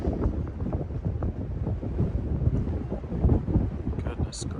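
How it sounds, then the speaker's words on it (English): Strong desert wind buffets the microphone outdoors, a steady low roaring rumble with gusty swells throughout, with no voice heard over it. "back in the desert, and it's super windy outside."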